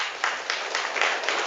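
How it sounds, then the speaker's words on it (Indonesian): An audience applauds children at an Islamic sermon, with dense, steady clapping throughout this brief moment. "Tepuk tangan buat anak-anak kita semua."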